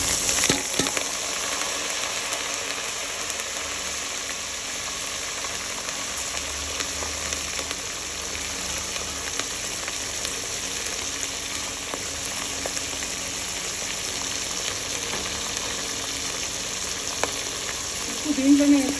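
Peanuts frying in hot oil in a pan, a steady close sizzle that carries on unbroken, with occasional faint stirring clinks and no speech.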